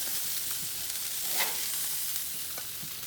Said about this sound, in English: We're gonna keep the bacon going because they're not crispy enough yet